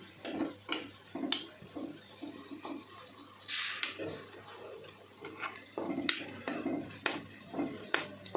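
Spiced vegetable curry with chopped raw mango stirred in a pan: steady, close scraping strokes and clinks of a utensil against metal, repeated in a loose rhythm with no voices.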